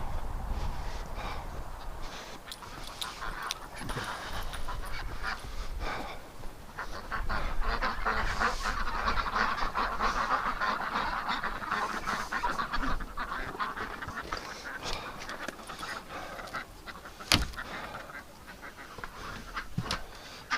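Ducks call inside a barn during a winter cold snap, a muffled chorus of honking and quacking that runs continuously under a noisy background, with a sharp bump near the end.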